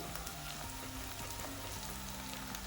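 Chopped onion, crushed garlic and bay leaf fry in lightly heated vegetable oil, giving a steady, dense sizzle throughout with faint low background hum.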